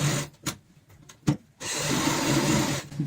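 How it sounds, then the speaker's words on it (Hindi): Sewing machine stitching a ladies bag, short taps and a couple of brief bursts, then a steady mechanical whirring run of the motor that continues close and loud to the end. "तो एक साइड से सिलाई की शुरुआत करेंगे।"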